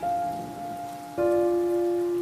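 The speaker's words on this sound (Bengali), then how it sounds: "উফ, হঠাৎ করে ঝড় বৃষ্টিটা কেন যে এলো!" Heavy storm rain pours in a steady broadband hiss, with sustained tonal notes layered on top that swell louder partway through.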